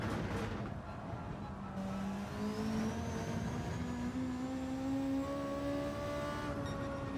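A race car engine in Gran Turismo 7 holds full throttle, its pitch climbing steadily in a long rising whine, droning continuously at moderate loudness with a brief gear change early on.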